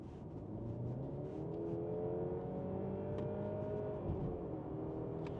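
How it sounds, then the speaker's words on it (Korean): A 2024 Mercedes-Benz E300 accelerates hard from 70 km/h, its engine note rising steadily with audible gear shifts, loud and close throughout with no talking. "자 보세요 70에서 악셀"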